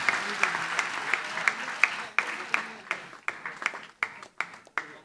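An audience claps for students selected in the JEE and NEET exams at a felicitation event, a thinning round of applause that breaks into scattered, uneven claps as it fades.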